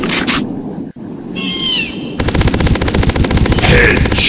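Gunfire in the Dinosaurs Hunter video game: a single loud shot early, then a rapid, loud burst of repeated automatic shots filling the second half, with synthetic game effects between.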